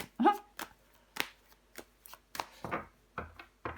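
Tarot cards handled, shuffled and laid down on a table, a series of sharp close card slaps and flicks at an uneven pace, with a voice speaking between the sounds.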